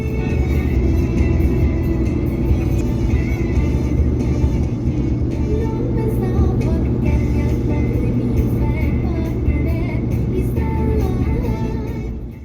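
A car cruises along a dual carriageway in Thailand, heard from inside as a steady, loud low rumble of engine and road noise that holds unbroken throughout.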